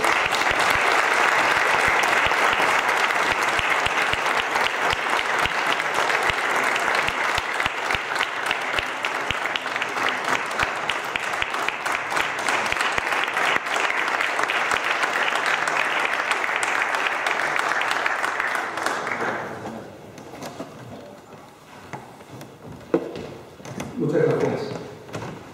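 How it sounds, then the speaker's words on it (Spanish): An audience at a lecture on supercomputing for science and engineering applauds a guest, with strong, dense clapping for about nineteen seconds that then fades into scattered claps, shuffling and low talk. "ruego un aplauso para él"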